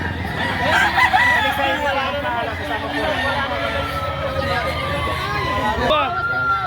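Roosters crow repeatedly at a busy chicken market, their loud calls rising over clucking fowl and a steady murmur of people talking nearby.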